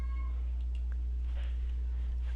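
A house cat gives a faint meow or two in the background over a steady electrical hum, brief and distant, with no voices.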